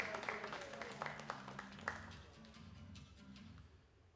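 Applause from spectators in a hall as shooters are introduced at a 10 m air pistol final, scattered claps fading out over a few seconds, quiet and somewhat distant.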